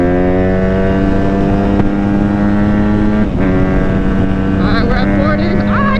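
Engine of a Honda CRF150RB dirt bike holds a steady, loud harmonic drone as it pushes through a top speed run, with a brief dip midway and some rising whine and clatter near the end.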